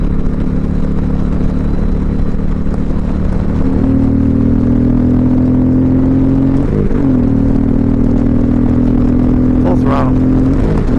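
2021 Indian Challenger Limited motorcycle at full throttle, its engine a loud, constant roar with a deep droning hum that steps up in pitch partway through, recorded close, with wind rush throughout.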